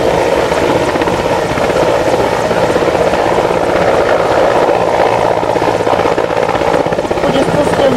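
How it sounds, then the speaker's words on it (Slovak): An Mi-17 rescue helicopter flies over toward a fire-and-rescue intervention site at an air show, its rotor and turbine drone steady and loud throughout, with a constant chopping pulse under the roar. "Vrtuľník nadletáva na miesto vykonania zásahu."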